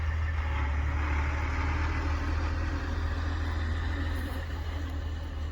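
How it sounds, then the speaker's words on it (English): Tractor engine rumbling steadily at a farm, a constant low drone holding throughout with no clear pass-by swell, fairly loud and alone. "you're gonna get a tractor rolling through here"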